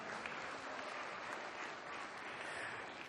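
Audience applause fills the space, a dense steady wash of many hands clapping together, loud and sustained throughout with no voices standing out.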